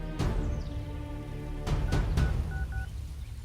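Phone being dialed, with sharp taps followed by a few short paired keypad tones, fairly quiet with a low background hum.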